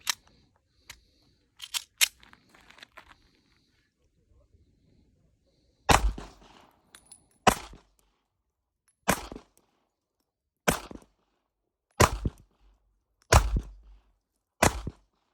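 A Sig P938 9mm pistol fired at a range: several sharp, loud reports spaced a second or two apart, with quieter handling clicks between them and no talk.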